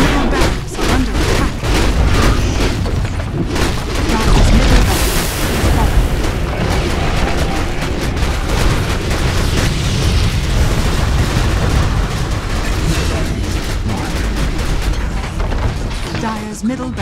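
Dota 2 barracks under attack and falling: dense, loud stretches of game combat with repeated booms, bursts and explosive hits running throughout, mixed with game effects and bits of voice.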